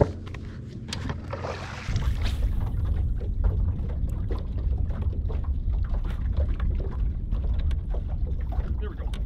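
An outboard boat motor runs steadily on shallow clearwater flats, a continuous low engine drone with wind and water noise; the motor's tone steps up and grows louder about two seconds in and then holds.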